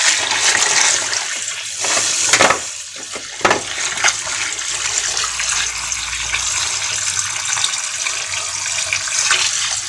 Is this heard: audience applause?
no